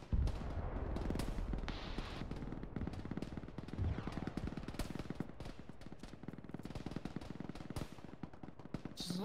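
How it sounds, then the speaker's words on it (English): Sustained automatic gunfire and scattered shots in the military shooter game Arma 3, rapid bursts crackling continuously from a distance with no pauses and no talk. "There's a lot of gunfire noises coming from the Jew West."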